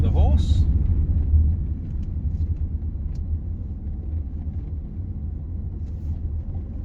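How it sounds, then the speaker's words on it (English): Ford Kuga 2.0 TDCi diesel SUV with Powershift automatic and all-wheel drive driving on a road, giving a steady low engine and road rumble heard from inside the cabin, a little louder at the start, then even. "the car is driving fantastically as it should"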